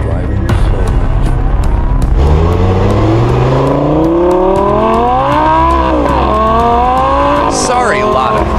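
A Bugatti's engine in the Roblox game Car Dealership Tycoon revs loud and continuous, pitch climbing steadily through gears with a dip and renewed rise, a sustained close-up whine over a low rumble.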